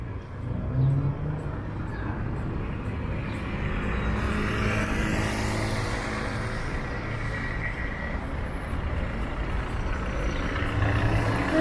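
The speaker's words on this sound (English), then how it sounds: "And lots of traffic along Front Street as well." Rush hour traffic on Front Street in downtown Toronto: a steady, dense rumble of cars, trucks and buses idling and creeping past, with occasional engine revs and an air-brake hiss, continuous and close.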